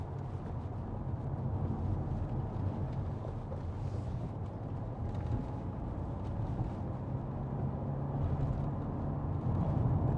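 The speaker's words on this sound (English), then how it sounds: "The tyre noise isn't excessive." Tyre and road roar from a 2016 Audi A4 2.0 TDI S line saloon on the move, a steady low rumble with a soft hiss above it, even and continuous throughout with no voices.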